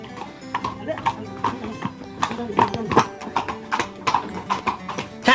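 A black horse on a horse farm in Korea clip-clops with rhythmic, fairly close hoofbeats throughout, while a person talks nearby.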